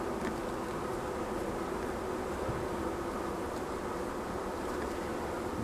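Honeybees drone steadily around an open hive during a nest swap, a dense continuous buzz close by with no voices.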